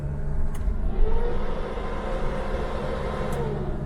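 Classic Mercedes T1 van with a five-cylinder engine running, a low steady idle rumble from inside the vehicle with slight swells, no one speaking.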